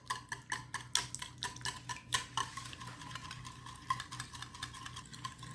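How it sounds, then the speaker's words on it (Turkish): Eggs and egg whites are beaten in a bowl, producing a steady run of quick, light tapping clicks from the whisk against the sides, close and fairly quiet. "Sıvılarımı önce güzelce çırpıyorum."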